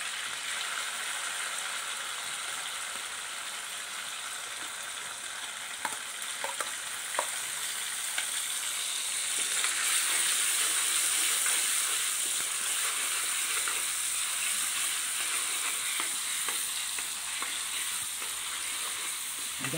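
Green chillies frying in oil with ginger-garlic paste give a continuous soft hiss and crackle, with a few spoon scrapes and taps and the sizzle swelling louder partway through.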